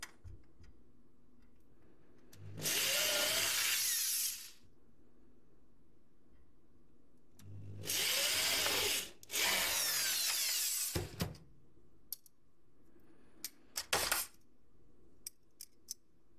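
Hole being made in a feeder cage for carp fishing rigs, with three loud broadband bursts of drilling or punching, each a couple of seconds long, separated by quiet pauses and followed by a few sharp clicks and taps.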